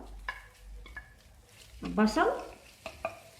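Onion drops into a hot pan for a chicken ammar dish and bursts into a loud sizzle, framed by light scraping stirs and clinks of the utensil before and after the hiss.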